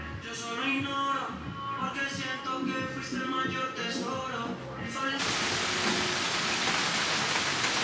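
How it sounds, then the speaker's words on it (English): Heavy rain in Punta Cana roars in as a dense, loud hiss, following a stretch of music or voices; downpour continues steadily to the end. "It's raining so hard"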